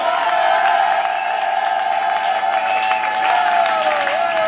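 Church congregation at a Sunday service cheering and applauding, a steady wash of claps and whoops that stays loud and even, with a sustained tone running underneath.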